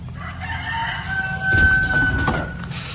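A native chicken rooster crows once, fairly close, with a drawn-out call over faint background noise and some nearby clucking.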